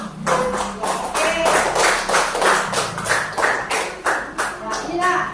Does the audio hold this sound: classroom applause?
yes